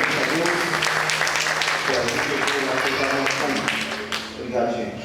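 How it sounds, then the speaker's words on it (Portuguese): A church congregation claps together in steady, dense applause during a worship service, loud and sustained throughout, with voices mixed in beneath the clapping. "uma salva de palmas para a gente, primeiramente a Deus"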